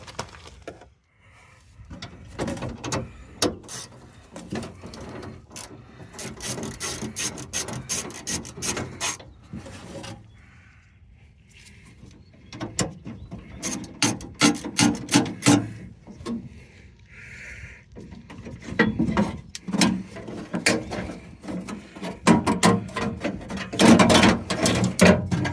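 Irregular scraping, rubbing and prying of hard car window parts and seals being taken apart, with clunks and rasps, close up, coming in bursts with short pauses.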